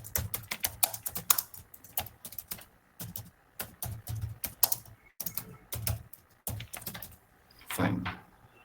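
Code being typed on a computer keyboard: close, quiet clusters of quick key clicks in irregular bursts with brief pauses, and a few heavier strokes toward the end.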